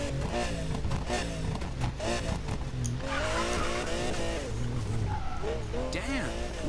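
Golden Lamborghini Murcielago in a video game, engine revving with tire squeals and skidding, while a person talks over the game sound the whole time.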